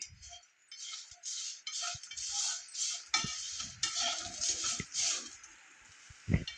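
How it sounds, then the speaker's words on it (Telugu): Spoon stirring salt, chili powder and turmeric through fried raw banana pieces in a pan, giving a steady run of scraping, scratchy strokes with soft clinks and a faint background sizzle, close and moderately loud. "ఉప్పు కారం పసుపు ఇవన్నీ బాగా కలుపుకునేలాగా కలుపుకోవాలి"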